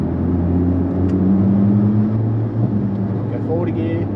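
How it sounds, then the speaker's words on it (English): A Mitsubishi Evo X MR with a dual-clutch gearbox, driven in manual mode, drops back a gear: a steady low engine drone, then a brief rising rev near the end, under someone talking. "if I want to drop back a gear"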